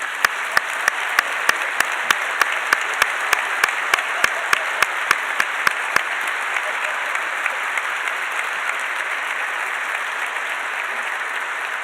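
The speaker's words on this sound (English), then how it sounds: "I would really love you to give a round of applause for her" A room full of people applauds a speaker's mother at a university equity and diversity breakfast, with sustained even clapping and sharp, regular clicks through the first half before the clapping carries on alone.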